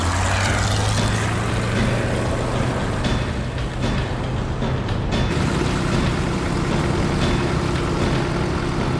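Swordfish biplane with small propeller engines and an open cockpit droning in flight, a continuous loud hum with a steady low tone and rushing noise, no voices.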